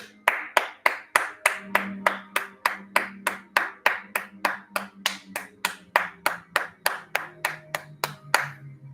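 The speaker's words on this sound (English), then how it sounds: "Everybody hand clap for Antonio one more time." Steady, evenly spaced hand claps ring out in a long series of about two per second, sharp and close, as a group claps together, with a low hum sustained underneath.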